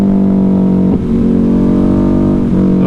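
A Ducati Hypermotard 950 RVE motorcycle engine revs loud and close, with a strong steady drone dipping briefly twice as the rider downshifts to first gear on a neighborhood street.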